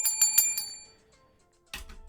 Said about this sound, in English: Don't forget to turn on those bell notifications while you're at it.